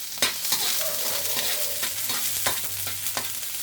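Sweet and sour chicken sizzles in a frying pan, hot oil crackling steadily while a utensil scrapes and stirs in a few distinct strokes, close and clear with no talking.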